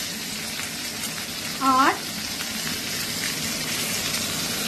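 Steady frying sizzle as pumpkin and other vegetables go into a pan of hot oil for a Bengali morich jhol, with a brief spoken word partway through over the continuous hiss.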